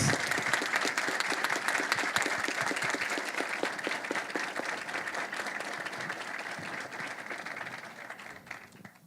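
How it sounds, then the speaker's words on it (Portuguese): Sustained audience applause at a Six Sigma business congress honoring a bank president, a thick, even roar of many clapping hands lasting several seconds and slowly thinning toward the end. "Uma salva de palmas, senhoras e senhores."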